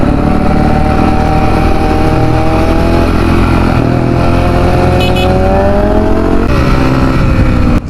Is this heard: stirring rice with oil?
no